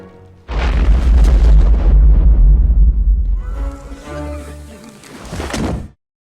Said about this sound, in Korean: 폭탄을 터뜨리겠다며 협박하는 마이런